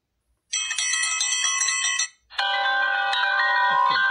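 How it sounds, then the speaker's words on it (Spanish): Two bursts of bright, ringing bells, each a rapid jangling chime lasting over a second, separated by a brief pause. "Hay muchos efectos, ¿ok? Hay también, por ejemplo, tenemos unas campanas."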